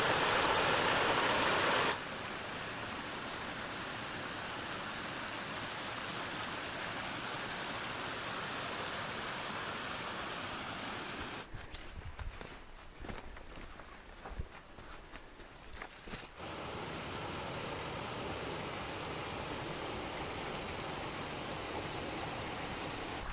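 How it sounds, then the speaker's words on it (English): A mountain stream on the Timberline Trail rushes steadily nearby, a continuous broadband wash of flowing water with a brief stretch of footsteps and handling noise partway through. "Just another beautiful stream."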